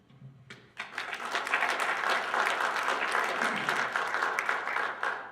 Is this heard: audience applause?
yes